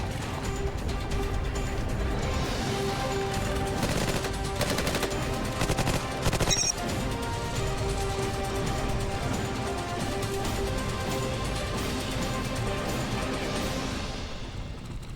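Thompson submachine gun firing on a shooting range, dense rapid bursts of loud, close gunfire continuing throughout with sharp cracks and echoing reports, no talk.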